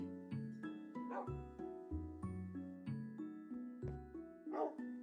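Dog yips and barks from a Minecraft video game, repeated short calls in a steady rhythm over game music tones, fairly close and clear.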